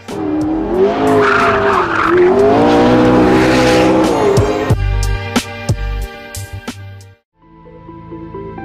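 A Porsche 918 on a hot lap with the tires squealing loudly under a high, rising engine note, then the engine drops to a lower steady drone with sharp clicks and brief pauses near the end.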